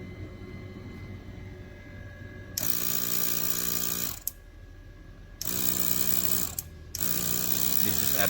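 A 1airbrush airbrush compressor runs at full power in two loud, steady bursts of mechanical hum and hiss, separated by short quieter pauses, with a faint background drone in between.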